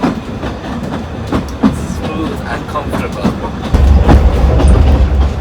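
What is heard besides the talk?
narrow gauge railway train running on the tracks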